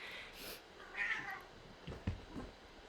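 A pet cat meows a few times up close in a quiet indoor room, short rising calls spread across a few seconds.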